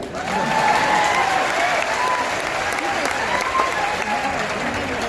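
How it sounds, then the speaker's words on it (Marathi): An audience at a student career-guidance gathering in Nanded breaks into sustained, even applause, a dense wash of many hands clapping that holds steady for several seconds. "मग जोरदार टाळ्या होत्या"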